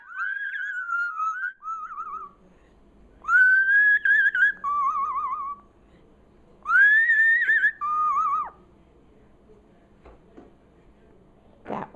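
A pet bird whistles in three bright, warbling phrases with short pauses between them, close and clear over a quiet room with no talk.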